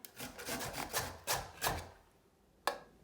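Radish being grated by hand on the coarse side of a grater, a series of close rasping scrapes in an uneven rhythm, then a pause and one last stroke.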